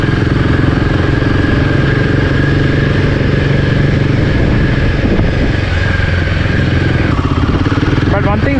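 A Royal Enfield Himalayan 450 motorcycle is ridden on a test ride, its engine humming loud and steady with wind noise close to the rider, with a gear change or throttle shift near the end.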